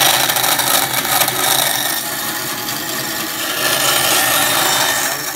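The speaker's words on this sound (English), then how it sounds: "The initial shaping done with the bandsaw" A bandsaw cuts a recycled polypropylene blank into a squeegee shape, a loud, continuous close-up rasping whir of blade on plastic that holds steady throughout.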